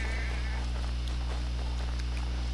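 A sheep bleats briefly in Assassin's Creed 3, a short wavering cry at the start over a loud, steady low hum and soft game ambience.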